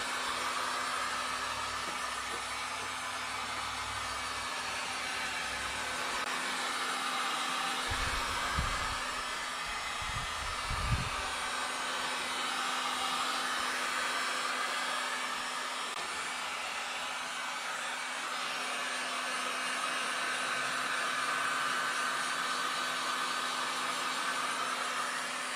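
A hot-air tool blows steadily to heat the metal on a car body during minor rust repair, a constant close whooshing hiss that holds for the whole stretch with a couple of brief low thumps partway through.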